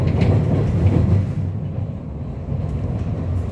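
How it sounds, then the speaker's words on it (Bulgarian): A city tram on line 5 rumbles along its rails, a loud, continuous low roar with faint clatter, heard from close by and steady throughout with no voices. "нещо, което харесвам за трамвай на линия 5 е, че буквално можеш да стигне до 57 км в час, на 60"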